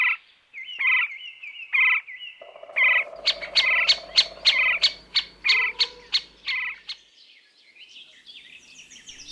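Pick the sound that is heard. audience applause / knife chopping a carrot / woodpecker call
woodpecker call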